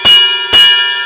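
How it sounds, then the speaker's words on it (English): The bell of a drum-kit cymbal is struck twice about half a second apart. Each hit gives a loud, bright, ringing ping with a long sustained shimmer that carries on after the second strike. "great detached bell, so that's one other reason I really like this cymbal"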